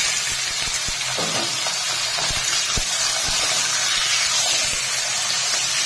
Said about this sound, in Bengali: চাম দিয়ে বেশ কিছুক্ষণ ভেজে নেবো, আর একটু নাড়াচাড়া করে